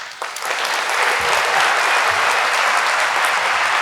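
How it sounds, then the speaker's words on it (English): An audience at a design talk gives a big round of applause, a dense, steady wash of clapping that holds at full strength throughout with no voices over it. "Please give a big round of applause to"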